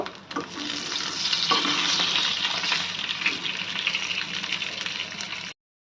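Dried fish frying in hot oil, a loud steady sizzle with stirring and occasional scrapes running without pause for about five seconds, then cutting off abruptly.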